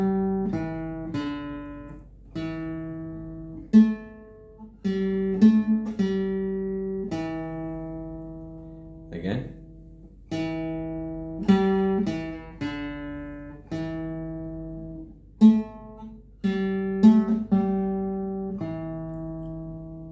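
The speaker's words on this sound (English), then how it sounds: "The psalm tone that I will be using today is the second in my set of pentatonic psalm tones" A tuned instrument plays the second pentatonic psalm chant tone, a slow phrase of clear sustained notes with plucked attacks that repeats twice, recorded close and loud with no voice.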